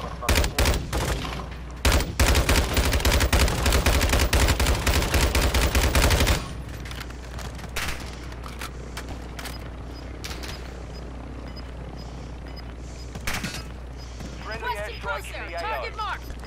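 Rapid, loud automatic gunfire from a Call of Duty match rattles continuously for several seconds, then cuts to quieter scattered shots and battlefield noise. Players and game voices talk over it.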